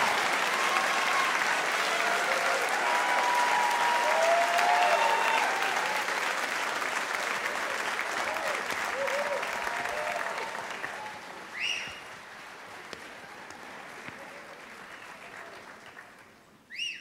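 Audience applause and cheering for the University of Texas at Austin SongHorns a cappella group at the VoiceJam 2017 competition, a dense, loud roar of clapping and shouts that holds steady, then slowly thins and fades toward the end.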